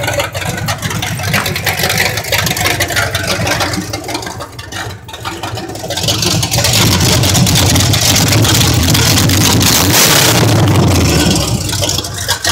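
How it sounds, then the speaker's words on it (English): A new engine running in a 1985 K5 with headers, loud and close, a low rumbling idle that rises into a fuller roar partway through and stays strong. "New engine."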